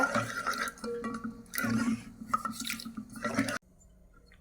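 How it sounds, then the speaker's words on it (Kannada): Water pours in a steady, splashy stream into a pot of thick cooking moong dal, a close, continuous gush that stops abruptly near the end. "ಇದಕ್ಕೆ ಸ್ವಲ್ಪ ನೀರು ಹಾಕೋತೇನೆ ರೀ ನಾನು"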